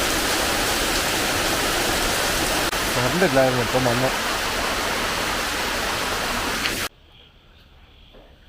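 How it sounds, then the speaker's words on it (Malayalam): Heavy rain pours down steadily in a loud, broadband roar, with a brief spoken phrase partway through before the downpour sound cuts sharply to near silence near the end. "മഴ മാറുന്നില്ല, കുറേ നേരമായി. നല്ല ശക്തമായ മഴയാണ്."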